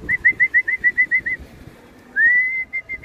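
Racing pigeons arriving: a whistled call repeats about nine times in a quick, even series, then one longer rising whistle and a few short notes, clear over low background rumble.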